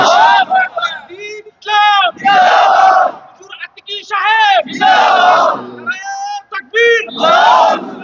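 A large crowd roars the Islamic battle cry Lillahi Takbir in loud, repeated call-and-response bursts, a lead voice calling out and many voices answering in unison, close and forceful.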